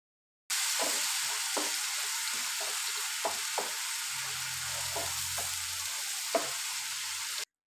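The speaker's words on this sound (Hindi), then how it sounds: "जो मेरा मसाला है वो अच्छी तरह से भुन गया है, ऑयल भी इसके ऊपर आ गया है।" A ground garlic, onion and green chilli masala fries in oil with a continuous close sizzle and scattered clicks of stirring, no voices.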